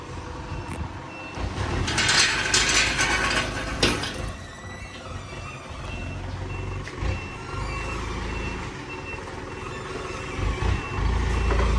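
A delivery truck backs up with its reversing alarm beeping steadily over a low diesel rumble and clattering machinery, fairly close and loud throughout, with no talk.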